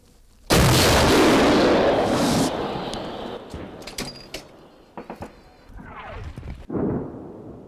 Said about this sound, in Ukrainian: По готовності вогонь.